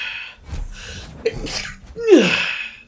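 A single sharp sneeze from a person playing God of War Ragnarök, preceded by a quick intake of breath and a little murmured sound, close and loud against otherwise quiet surroundings.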